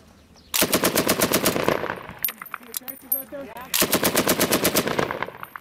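Close, loud machine gun fire from US Marines in combat in Afghanistan, two rapid sustained bursts separated by a short pause filled with brief shots, voices and echoing clatter.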